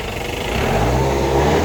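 Modified Jeep with a DI turbo engine, lifted Thar-style build, idling steadily, heard close from the rear near the exhaust as a continuous low, even rumble that firms up slightly after the first half second, with no talk.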